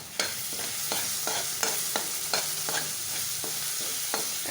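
Coarsely ground ginger and garlic frying in a pan, with a steady close sizzle broken by repeated scraping strokes of a spoon stirring at an irregular rhythm; no one talks.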